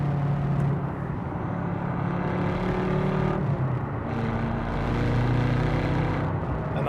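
BMW M6 Gran Coupe accelerating hard through the gears inside a tunnel, a loud, steady engine roar with reverberant rumble and brief shifts in pitch, heard from within the cabin.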